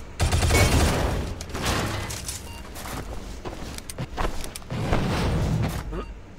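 Dense bursts of gunfire and booms in the Shadow Complex action game while the character jumps, loud and sustained with short gaps, under a speaking voice.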